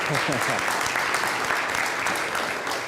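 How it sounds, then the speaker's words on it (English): Applause fills a council meeting chamber as the audience gives a round of applause for kids from a youth bike club, a steady dense clapping throughout with some voices mixed in. "Yeah, round of applause."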